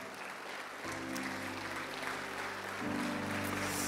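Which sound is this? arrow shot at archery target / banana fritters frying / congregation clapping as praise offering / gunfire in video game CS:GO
congregation clapping as praise offering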